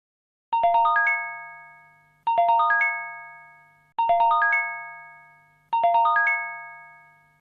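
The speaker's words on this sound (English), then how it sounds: "The emergency notification system has been activated." Four identical emergency alert notification tones ring out at regular intervals, each a bright chime-like chord that strikes sharply and then decays, loud and clear over near silence.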